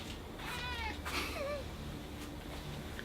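A cat meows several times, a short rising cry followed by a couple of longer wavering meows, fairly clear over a quiet background hum.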